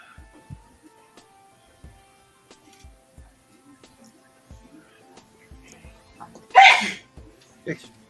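A single sharp sneeze bursts out near the end, followed by a smaller sound, against a quiet room with faint scattered thumps.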